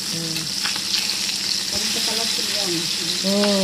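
Pieces of fish fry sizzle loudly in hot oil as they are turned in the pan, a continuous crackling hiss with a voice faintly heard in the background.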